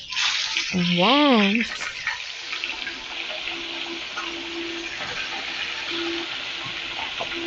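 Fish frying in a pan produces a steady, close sizzle and crackle, with a brief spoken word near the start before the hiss settles into a continuous bed.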